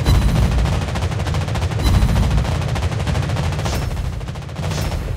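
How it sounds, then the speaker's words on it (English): Anti-aircraft guns rattle in continuous rapid fire aboard a Soviet cruiser in the naval battle game World of Warships Blitz, a dense, loud, unbroken barrage with no voices. "Anti-aircraft gun on full alert."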